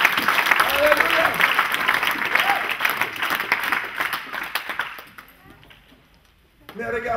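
A church congregation bursts into loud, sustained applause during a sermon, the clapping gradually thinning and fading toward near silence before sound picks up again at the end.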